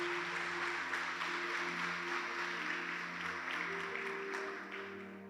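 A church congregation applauds faintly and steadily, the soft wash of clapping sitting over sustained low musical tones that continue as it fades toward the end.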